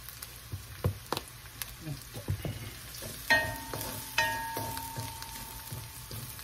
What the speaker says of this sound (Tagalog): Gagamitin po naman natin ngayon pagigisa ay ito pong durog. Ako po yung nagsasama ng pepper sa gisa.